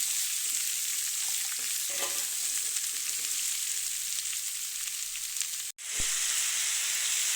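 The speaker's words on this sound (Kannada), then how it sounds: "ಈಗ ಕುಂಬಳಕಾಯಿ ಹಾಕ್ಕೊಳ್ತಾ ಇದ್ದೀನಿ ಇದನ್ನು ಕಾಯ್ಕೊಂಡು ಚೆನ್ನಾಗಿ ಫ್ರೈ ಮಾಡಬೇಕು" Chopped pumpkin fries in a pan with a loud, continuous close-up sizzle and some stirring. The sizzle drops out for a brief moment near the end, then resumes.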